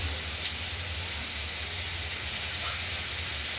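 Thinly cut pumpkin pieces fry in hot oil with mustard seeds, giving a constant, close, loud sizzling hiss with no break and no voices.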